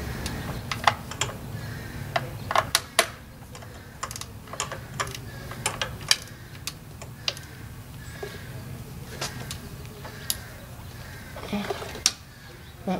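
Ratchet snugging down the valve cover bolts on a 2001-2005 Honda Civic engine, heard as scattered sharp clicks and ticks in irregular bursts over a steady low garage hum, close and fairly quiet.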